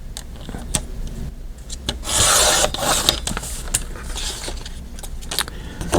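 Cardstock is trimmed to height for a junk journal folio, a short scraping, rubbing cut rising around the middle amid scattered small clicks and handling noises at close range.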